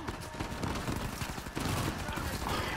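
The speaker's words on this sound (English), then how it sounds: "Who the hell is shooting me?" Dense, steady gunfire crackles in the Uncharted 4 video game, a continuous rattle of shots filling the moment, fairly close, with a voice briefly present.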